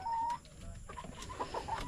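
Backyard chickens, some blind in one eye, cluck softly in short scattered calls amid quiet coop ambience, faint and fairly close.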